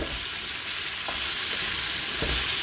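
Onions with ginger garlic paste frying in a pan for a beef curry, giving a steady close broadband sizzle with a few soft clicks as they are stirred, and no voices.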